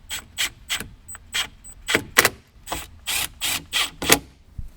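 Speaker screws being driven in during a Kicker plug-and-play speaker install in a 2021-or-later Ford Bronco, heard as a series of short mechanical ratcheting bursts with brief pauses, close and fairly loud.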